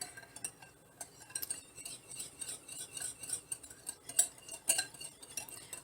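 Cutlery scrapes and clinks against a bowl while food, with ground Saigon cinnamon in it, is mixed. Quiet, irregular taps and scrapes continue throughout, close by and with no voices.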